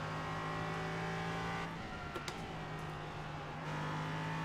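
An LMP3 prototype race car in the iRacing sim drones with a steady engine tone that drops briefly as it lifts through a corner, then picks back up, heard alone without speech.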